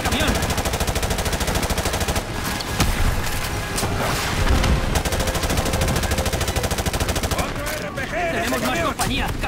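Dense gunfire from the Call of Duty Modern Warfare Remastered video game: continuous loud automatic fire and explosions in a battle scene, with shouted voices over the top and no breaks.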